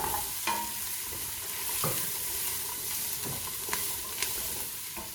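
Onions and carrots sauté in butter in a pot with a soft, steady sizzle. Occasional clicks and scrapes of stirring come in close, and nobody speaks.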